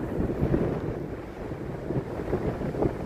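Strong storm wind buffets the microphone at an estuary during a storm surge, a continuous low roaring rush with gusting swells and no speech.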